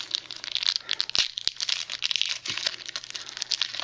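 Crinkly plastic wrapper of a Transformers trading card packet being handled and torn open up close, a busy stream of crackling and ripping with two sharp snaps partway through, no talking.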